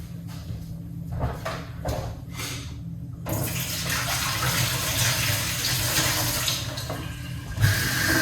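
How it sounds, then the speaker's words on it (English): Water runs steadily from a kitchen tap as fresh mint and parsley are rinsed, a continuous splashing hiss that swells louder partway through, with a brief clatter near the end. "Let's rinse off these ingredients."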